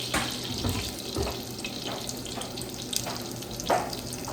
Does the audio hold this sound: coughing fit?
no